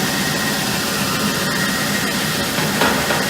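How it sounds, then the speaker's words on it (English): Gecam G131 grinder working a box seam at reduced speed, a dense, even hiss-like grinding roar that stays loud and steady throughout with little variation. "So now we are grinding on a little bit of a lower speed"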